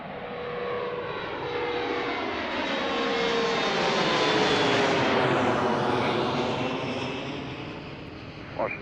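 A fixed-wing airliner takes off from Washington Reagan National Airport, its engine roar swelling steadily to a loud peak mid-clip and then slowly fading, with no talk over it.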